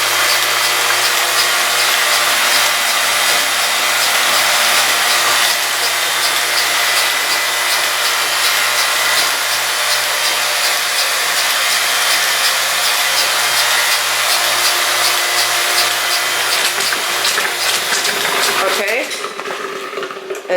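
A machine cleaning milk tubing with biodegradable dish soap, a loud steady sucking and rushing noise that runs for most of the stretch before cutting off near the end.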